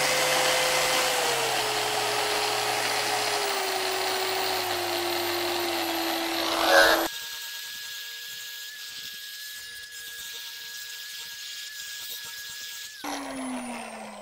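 A power tool fitted with a surface conditioning disc finishes steel, running as a steady high whine that drops in pitch partway through when the speed is turned down, then winds off near the end.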